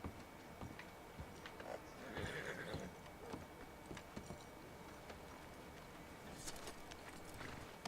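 A horse in Red Dead Redemption 2 neighs and its hooves clop faintly amid clicks and background noise, a game-like soundscape.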